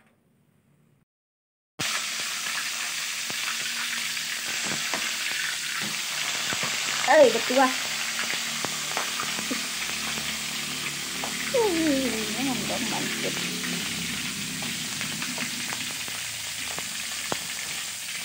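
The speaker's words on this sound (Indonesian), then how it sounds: "Habis ini mau aku goreng." Turmeric-coated chicken frying in hot oil, a steady loud sizzle that starts abruptly and continues throughout, with occasional crackles and pops and brief talk over it.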